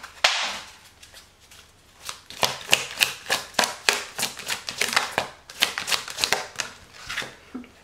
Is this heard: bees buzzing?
no